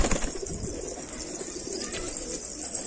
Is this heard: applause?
no